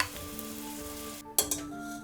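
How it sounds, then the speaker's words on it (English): Meat sears in a splash of olive oil in a pot, a close, steady sizzle with a sudden louder burst of crackling spatter near the end. "Add in a good splash of olive oil and the meat."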